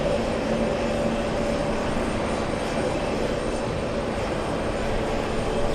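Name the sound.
heavy jet airliner departing for Mumbai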